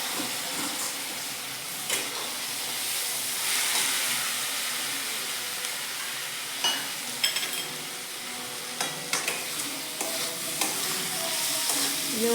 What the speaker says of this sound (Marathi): व्यवस्थित हे मिक्स करायचंय बघा मसाला